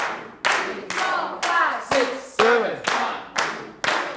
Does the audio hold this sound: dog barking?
no